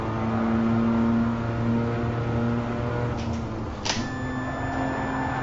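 A steady electronic warning beep from the rev limiter in the racing video game Gran Turismo Sport cuts in near the end and holds over a continuous droning car engine.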